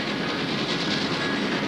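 A train rolls along the rails with a steady, loud, close rumbling wash and a faint rhythmic clickety-clack running underneath, with no voices.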